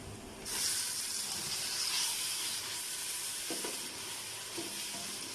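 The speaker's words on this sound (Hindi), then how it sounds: "और 5 मिनट के लिए भूनूंगी मजीद। और ये देखें माशाल्लाह से टमाटर नरम हो रहे हैं।" Steady sizzling hiss of tomatoes frying in a pan for shahi chanay, with a few soft scraping stirs partway through; no talking.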